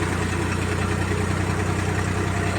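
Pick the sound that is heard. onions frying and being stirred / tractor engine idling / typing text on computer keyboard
tractor engine idling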